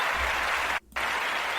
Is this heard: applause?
yes